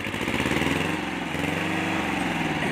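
A two-cylinder tractor engine chugs steadily at idle, close and loud, with a rough, pulsing mechanical drone throughout.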